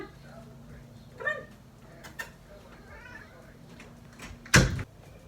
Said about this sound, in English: I think my cat's trying to get in.